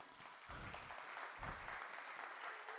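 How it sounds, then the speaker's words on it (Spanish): A church conference congregation applauds for Samuel, a steady wash of clapping at fairly low level with a couple of low thumps mixed in. "Un aplauso, por favor, para Samuel"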